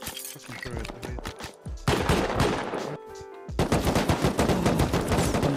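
Rapid video game gunfire from a turret during a multiplayer raid, loud bursts of shots in fast rhythmic volleys with brief pauses, mixed with other weapon fire and no talk.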